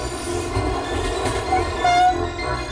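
A train rolls through the Channel Tunnel during maintenance works, a steady loud rumble of wheels and carriages with a brief horn-like tone partway through, no talking.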